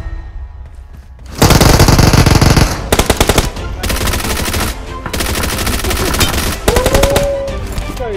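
Rapid automatic gunfire in a video game, loud bursts of sustained machine-gun fire broken by short pauses, with overlapping shots and a brief whooshing effect near the end.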